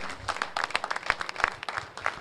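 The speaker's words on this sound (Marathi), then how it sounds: "एकदा जोरदार मित्रांनो टाळ्या या खेळाडूसाठी" Applause from a crowd at a village cricket club prize ceremony honours a long-serving player, a dense patter of many hands clapping, fairly faint and distant throughout.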